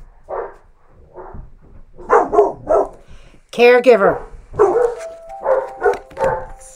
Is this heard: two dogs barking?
yes